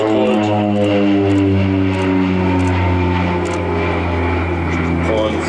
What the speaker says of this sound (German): Mal hier ein Hochgeschwindigkeitsvorbeiflug